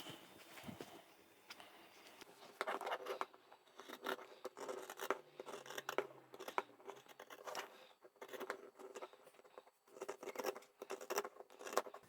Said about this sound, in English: So this curved line, we're going to cut that out.